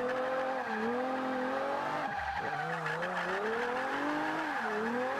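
A front-wheel-drive Toyota Celica drifting in the racing game Forza 5, its engine droning steadily while the tires squeal continuously through the corner, the pitch dipping and rising as it slides.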